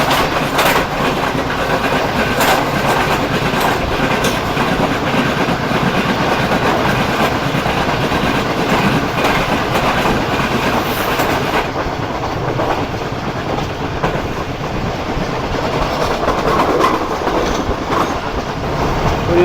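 The Karakoram Express rolls along the rails at good speed in winter, a loud steady roar of wheels and carriage rattle with rhythmic clatter heard from inside the economy class car, no voices.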